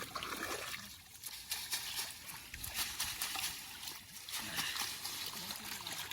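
A fishing net is washed in water, with continuous splashing and trickling, close and fairly loud, surging in uneven bursts across the clip while voices murmur faintly underneath.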